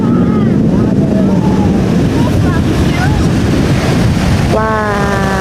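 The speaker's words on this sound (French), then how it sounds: "juste le bruit des vagues, c'est de ça qu'il s'agit." Ocean waves breaking on the beach at Jacqueville, a loud, constant rush of surf and strong wind buffeting the microphone, with faint voices and whistle-like tones drifting in toward the end.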